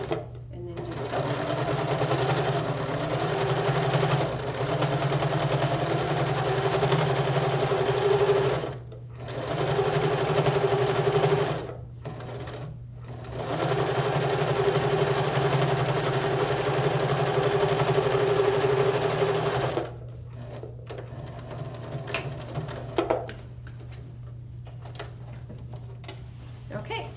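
A sewing machine stitches fabric in long, steady runs broken by a few short pauses, then gives way to quieter handling sounds near the end.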